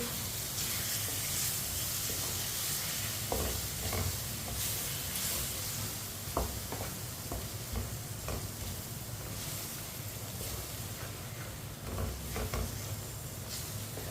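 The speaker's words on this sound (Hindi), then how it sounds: "अब इसमें 3 अंडे डालेंगे। मिक्स कर लेंगे।" Eggs with karela (bitter gourd) and spices sizzle steadily in a pan while a spatula stirs and scrapes, with a few light taps against the metal over a continuous frying hiss.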